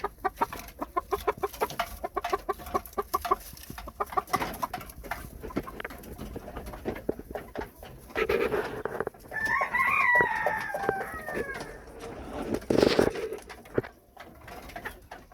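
Spangled Mug and Asil-cross hens clucking and calling close by, with a rooster crowing partway through among scattered bird sounds; no talking.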